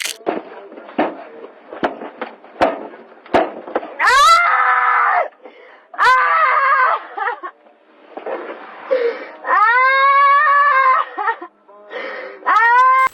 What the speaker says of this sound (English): She continued her tantrums, screaming and shouting from inside the vehicle.